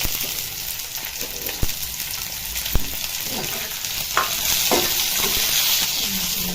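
Chopped tomatoes and green chillies fry in hot oil with a steady sizzle, broken by sharp clacks of a spoon stirring against the pan.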